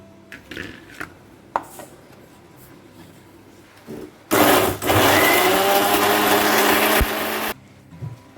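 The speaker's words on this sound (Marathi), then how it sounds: "आता हे बरें फायन वाटून घेवंक जाय." A mixer grinder grinds Goan prawn balchao masala with cumin and turmeric toward a fine paste; after some handling knocks, the motor roars loudly and steadily for about three seconds, then cuts off.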